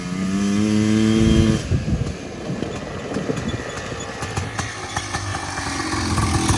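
A Honda Pilot FL400 off-road buggy engine revs hard with a rising whine, then drops into a rough, rumbling idle with rattling and clattering mechanical noise, close and loud.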